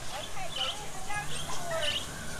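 Birds chirping inside a theme park birdhouse where visitors can feed them, with several overlapping tweets and calls amid steady crowd hubbub and faint voices.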